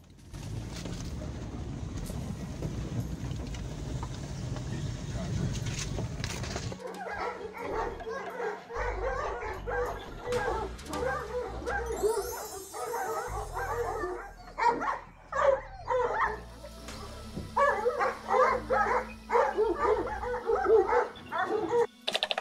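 Caucasian Shepherd dogs at a kennel in the Chernihiv region of Ukraine, deep repeated barking from several dogs after a stretch of low rumbling, loud and close with overlapping bursts.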